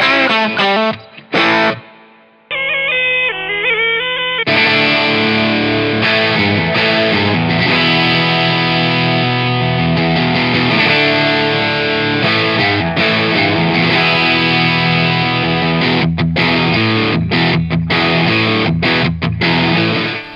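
Godin Summit Classic electric guitar on its bridge pickup with the active HDR boost switched on, playing loud, sustained distorted chords and riffs with a thick, driven tone, after a brief cleaner passage at the start.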